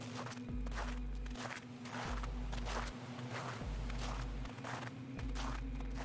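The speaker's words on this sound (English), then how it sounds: "Her wet footsteps, getting closer." Footsteps land in a slow, steady rhythm, about five heavy steps over a constant low hum, each one a soft, damp thud.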